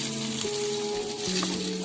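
Three eggs sizzle in a pan with the fried rice base for paneer egg fried rice, a loud, even frying hiss close by with a few faint knocks.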